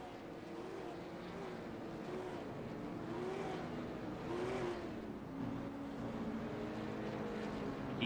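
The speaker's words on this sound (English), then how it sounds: "Get these cars moving and getting ready for this heat here." Super late model race cars in a racing video game drone steadily as a field of engines moves around the South Boston track, with a continuous, moderately loud roar that swells and dips in pitch as cars pass.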